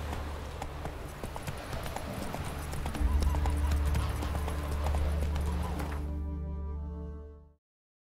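Roach, the horse in The Witcher 3, gallops with rapid, continuous hoofbeats over a dense game soundscape and music, the whole mix cutting off abruptly near the end.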